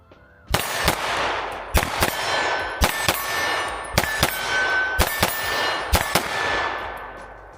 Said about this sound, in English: Let's do a couple double taps on each target.